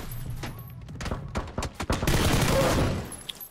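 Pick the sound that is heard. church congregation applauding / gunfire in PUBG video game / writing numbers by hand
gunfire in PUBG video game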